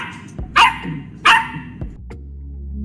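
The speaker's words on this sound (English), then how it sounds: "Doxies make surprisingly good watchdogs, but can be noisy." A dachshund gives two sharp, close barks about a second apart, followed by a softer yip and some faint shuffling in a quiet room.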